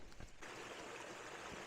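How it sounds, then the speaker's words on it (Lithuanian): A clear mountain stream runs in the snowy hills near Zakopane, a soft, steady rushing that stays faint and unbroken for the short stretch, with no voices. "Iš kalnų bėga toksai vandenėlis"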